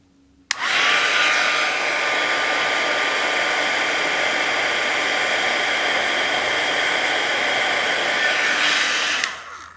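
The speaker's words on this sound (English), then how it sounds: "I'm going to use my heat tool, and I'm going to reheat that" A handheld heat tool reheating toner foil on a die cut switches on abruptly and blows with a steady, loud, close rushing whir for about nine seconds, then cuts off sharply.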